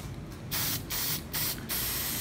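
Crystal Clear coating is sprayed onto the hair of a latex mask in a garage: four short, close hissing aerosol bursts separated by brief pauses.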